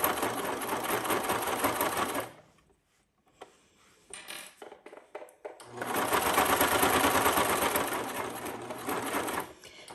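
Brother cover stitch sewing machine running steadily while topstitching fabric binding, two loud continuous bursts of rapid stitching separated by a pause with faint handling clicks.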